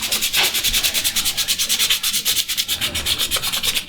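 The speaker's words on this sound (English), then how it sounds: "if you're sanding a lot curved surface like that" Steady back-and-forth rasp of sandpaper rubbed by hand over a curved wooden surface of a Shaker-style coat rack, in quick regular strokes, close and fairly loud with no talking.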